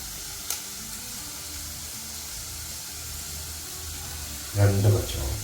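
Crushed ginger and garlic added to sautéed onions in a pan for a Kerala fish curry, with a low steady sizzle that swells into a louder burst of frying near the end.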